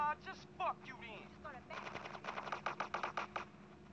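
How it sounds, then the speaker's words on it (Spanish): Rapid gunfire in GTA San Andreas, a quick run of crisp, evenly spaced shots that follows a brief stretch of talking, the reports fairly close and moderately loud. "¿Quién me estaba disparando?"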